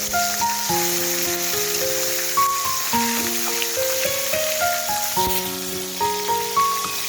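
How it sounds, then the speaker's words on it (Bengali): Rohu fish fried in oil in a pan at a village kitchen, giving a steady, broadband sizzle throughout that sits beneath louder melodic background music. "অপর পাশটা উল্টে ভেজে নেব"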